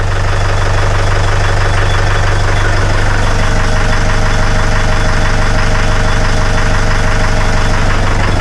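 A widebeam narrowboat's engine runs steadily after a repair, a loud continuous diesel drone with a rhythmic knocking throb that stays constant throughout, with no talking.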